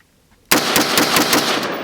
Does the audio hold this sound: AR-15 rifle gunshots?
yes